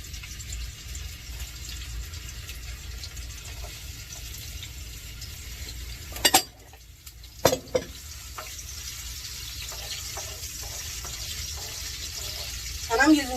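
White onions go into hot oil for jollof rice, bringing a low sizzle with a few sharp clatters of pan and utensil midway. A voice talks briefly over the cooking.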